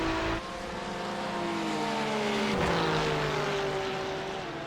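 GT3 race cars, including a Porsche and a BMW, roar through a video game race. Engines are loud and steady, with harmonic tones climbing and falling as the cars shift gears through the lap, and there is no talk.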